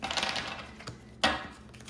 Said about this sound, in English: Let me just shuffle these up over here a little bit.